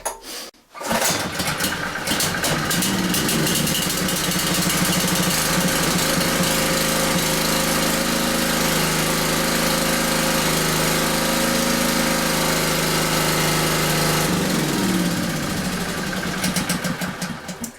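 A petrol generator engine runs steadily and loudly after its choke is taken off, a dense continuous drone lasting well over a dozen seconds with a slight change in tone near the end.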